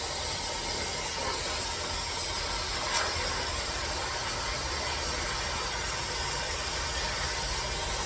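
A high-velocity dog grooming dryer blows air at a mini goldendoodle, giving a continuous, even, broadband roar that stays steady and loud from start to finish, with no voices.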